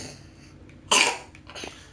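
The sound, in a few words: cough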